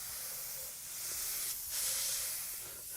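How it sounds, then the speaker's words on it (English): Spray can releasing paint in a steady hiss, close and continuous, swelling slightly louder midway as the nozzle moves across the surface. "I will spray but move at the same time."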